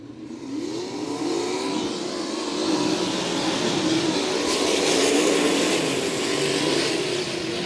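Several sprint car engines roar and rise in pitch as they accelerate during a feature race at Crystal Motor Speedway, a dense, loud rumble building over the stretch.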